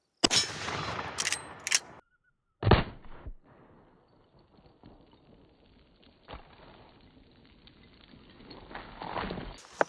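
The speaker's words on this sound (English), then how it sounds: "Let's see if we can shoot that lock off." .45-70 rifle shots fired at a safe's lock, several loud sharp cracks: a quick burst early, one more a moment later, then scattered fainter impacts and rattles, with a final rising burst of noise near the end.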